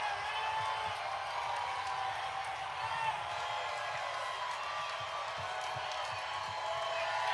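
A large outdoor crowd cheers and roars steadily at an OKC Thunder NBA championship parade, a dense continuous wash of voices and whoops with scattered claps, with talk mixed in.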